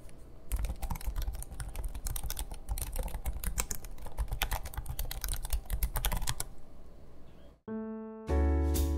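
Someone types on an MSI Creator Z16 laptop keyboard, which has full-size arrow keys and no separate number pad. Rapid, close key clatter runs for about six seconds, then stops and a short tonal sound follows.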